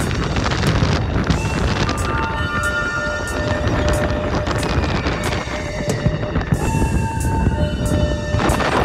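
Strong, steady wind roars against the microphone, a continuous loud rumbling gust with no break across the whole stretch.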